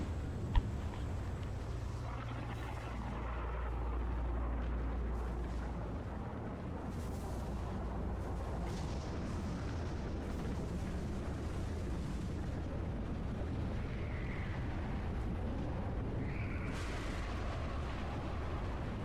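Rumbling storm in S.T.A.L.K.E.R. GAMMA with rain hissing and low booming thunder, several bursts and swells over a dense, continuous backdrop.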